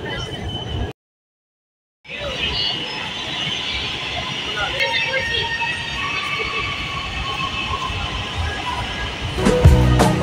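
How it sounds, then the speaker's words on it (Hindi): Interior of a Lahore Orange Line metro train in motion, a loud steady rumble of wheels and carriage noise with faint squeal, briefly cut out near the start, and voices talking underneath. "फर्स्ट टाइम हम ऑरेंज लाइन ट्रेन में बैठे हैं"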